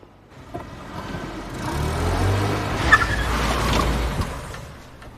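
A car rolls in at low speed and pulls up in a police parking spot, its engine swelling to a moderate hum in the middle and easing off, with a few light knocks around it.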